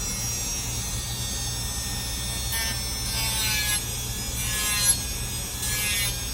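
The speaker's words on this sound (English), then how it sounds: "I just start grinding away at that heel" A steady, high-pitched abrasive grinding whine from a power tool at its lowest speed, rising in bursts as the steel heel of a Gold Dollar 66 straight razor is pressed against it, continuous and close.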